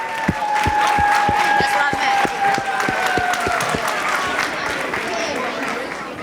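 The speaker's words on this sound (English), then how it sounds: "Give them another round of applause because they sounded amazing." An audience at the Southview school winter concert applauds the 6th grade band, many hands clapping in a loud, steady, close wash, with sharper individual claps standing out rhythmically and a thin sustained tone running faintly above.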